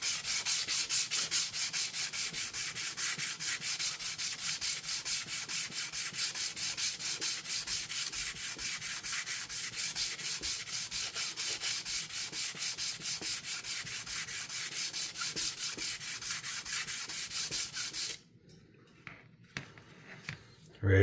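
Steady back-and-forth rasp of 400 grit abrasive worked by hand across a titanium Kizer knife scale, a close, loud and evenly rhythmic rubbing that runs continuously for about eighteen seconds, then stops abruptly into near silence broken by a few small taps.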